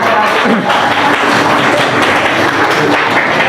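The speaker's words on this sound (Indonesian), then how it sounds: "Tepuk tangan untuk kita." A crowd claps steadily and densely throughout, a continuous wash of applause with no pauses.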